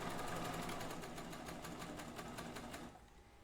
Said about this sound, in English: I want to serge my edges even.